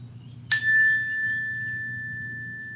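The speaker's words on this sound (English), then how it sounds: "I like to begin each class by ringing this chime" A chime struck once in a quiet room, a bright metallic strike followed by a clear sustained tone that rings on and slowly fades over several seconds, over a low steady background hum.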